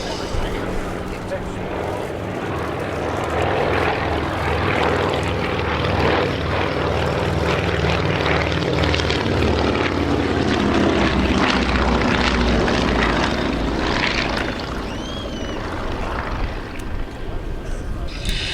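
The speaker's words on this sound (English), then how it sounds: "The world's only airworthy Mark I Anson." A 1943 Avro Anson Mk I, a twin-propeller aircraft, flies past at an air show, its engines droning loud and steady throughout and swelling slightly mid-pass.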